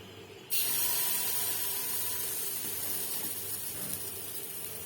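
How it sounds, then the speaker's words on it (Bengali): Sattu paratha batter sizzling in a pan with very little oil, a steady close frying hiss that starts abruptly and holds loud throughout, with no talk. "দেখো এটার মধ্যে আমি কম তেল দিয়ে ভাজছি"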